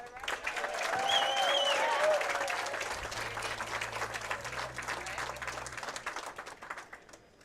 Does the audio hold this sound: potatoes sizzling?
no